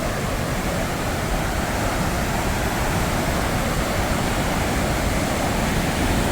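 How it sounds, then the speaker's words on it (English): A raging, flood-swollen waterfall at Grand Falls, New Brunswick pours with a dense, constant roar, loud and close throughout with no talking. "the falls are raging today, like I said, because there's a lot of flooding going on."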